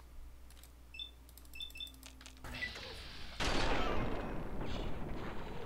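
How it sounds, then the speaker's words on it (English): A gunshot to the head in VATS in Fallout 3: soft clicks and beeps come first, then a sharp shot bursts in and trails into a louder, sustained rumble and hiss, all at low overall level. "Now hit VATS. Now shoot him in the head."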